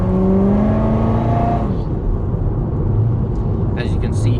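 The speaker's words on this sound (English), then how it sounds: "As you can see here in the Corvette, you know, I'm just going around the corner here" A Corvette's engine drones with a steady tone through a corner, then fades under broad road and wind rush, with faint high chirps near the end.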